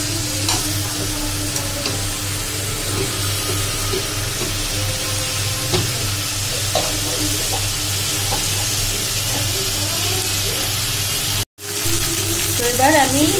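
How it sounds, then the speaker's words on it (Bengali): Vegetable curry with added water sizzling in a pan while being stirred, a loud continuous sizzle with scraping stir strokes, briefly cut off near the end before resuming. "তরকারিটা আরেকবার নেড়ে দেবো ভালো করে"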